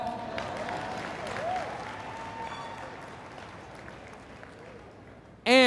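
Audience applause at a sales presentation launching a wellness product division, a steady wash of clapping through most of the stretch that gradually fades, with some voices mixed in.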